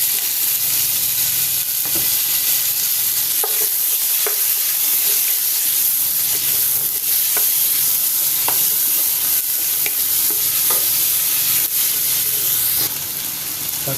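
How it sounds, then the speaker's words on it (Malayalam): Tomatoes go into sautéing onions in a pan for a Kerala curry, filling the sound with a loud, constant sizzle broken by repeated scraping strokes of a stirring spoon, with nobody talking. "ഉള്ളിയൊക്കെ ശരിക്കും വഴന്നു വന്നിട്ട് നമുക്ക് തക്കാളി ഇടാം."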